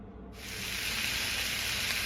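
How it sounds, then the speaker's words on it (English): Sausage hits a hot skillet on a stovetop burner and erupts into a loud, steady frying sizzle that starts abruptly after a brief quiet moment and holds strong, close up. "I got the skillet heating up on the eye right now, and I'm about to transfer this sausage to it."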